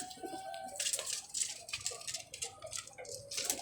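Pigeons in a rooftop loft, with soft, low cooing and faint fluttering and tapping, quiet and close, with no talking.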